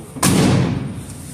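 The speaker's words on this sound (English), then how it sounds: "listen to that door" A Ford Econoline drag van with a 351W engine has its door slammed shut: one loud, close, solid thud that rings briefly and fades into a low background rumble.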